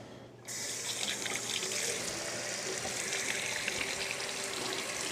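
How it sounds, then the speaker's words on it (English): Tap water running steadily into a sink while hands are washed in a kitchen, a close, continuous splashing rush that starts abruptly after a brief quiet moment. "let's wash our hands"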